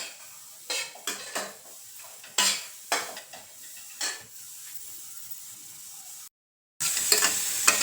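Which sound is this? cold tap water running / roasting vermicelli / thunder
roasting vermicelli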